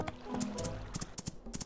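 Horse hooves clip-clop in the farming life-sim game My Time at Portia, a quick run of clopping beats over soft game ambience and music. The sequence is brief and moderately loud.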